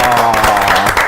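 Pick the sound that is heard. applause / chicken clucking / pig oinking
applause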